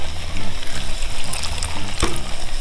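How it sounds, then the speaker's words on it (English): Water being poured into a pot of seafood gumbo makes a steady, close rushing and splashing sound throughout, with a brief louder splash near the end. "I'm gonna add a little bit more water."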